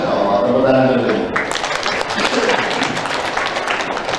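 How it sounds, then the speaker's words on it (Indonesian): Children clap their hands together in a brisk, scattered burst, starting after a teacher's voice and continuing as a steady patter of claps in an Islamic school classroom. "Oh, tepuk tangan dulu."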